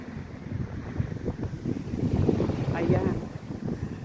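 Winter wind buffets the microphone by the sea in a seaside square at Porto Rafti, a low rumbling gusty roar with distant water beneath, and a person speaks faintly through it.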